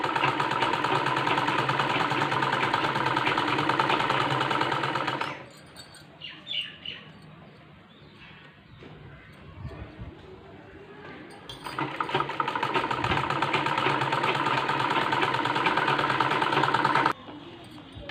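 A sewing machine stitching a fall onto a saree runs in two long, steady, loud buzzing bursts, broken by a quieter pause with light handling noises.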